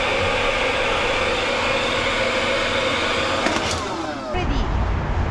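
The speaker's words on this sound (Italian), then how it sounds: "Notare il phon, anni. Che anni sarà? Tipo 80? 90? Lo so, però sei surriscaldato." An old hair dryer from around the 1980s or 1990s, running overheated, blows a loud continuous broadband whoosh with a steady whine that shifts briefly near the end before roaring on.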